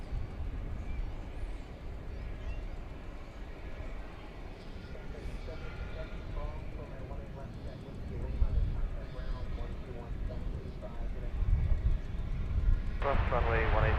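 An airliner takes off at night from a runway at DFW Airport, its engines a steady broadband rumble that swells toward the end, with radio talk running over it.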